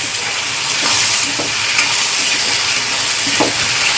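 Chopped tomatoes and ghevda bean vegetables fry in oil with a loud, continuous, close hissing sizzle, broken now and then by soft stirring scrapes.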